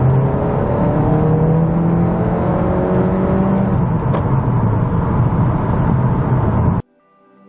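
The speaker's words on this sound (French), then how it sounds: "écoutons l'extrait de l'accélération" A 2018 Honda Accord Sport accelerates hard, its engine note rising in steady pitch sweeps as it pulls through the gears, loud and continuous for about seven seconds before cutting off abruptly.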